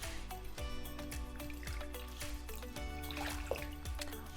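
Half a cup of water goes into a bowl as pickling brine for daikon and carrots. It pours with a soft, close trickle and light dripping against a faint musical background, and no one speaks.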